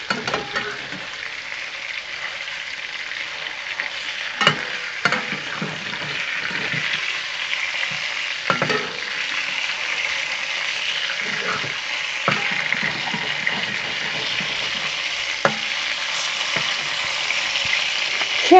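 Potatoes fry in a pan with a continuous close sizzle, broken by occasional clinks and scrapes of stirring.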